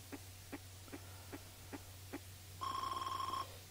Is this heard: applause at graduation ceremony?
no